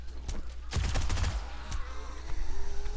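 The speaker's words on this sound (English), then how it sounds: "This SMG, man, I just love this thing. It fires so quickly." An SMG in 7 Days to Die fires a rapid burst of close, loud shots packed tightly together for about a second, followed by a few scattered single shots and lingering game ambience.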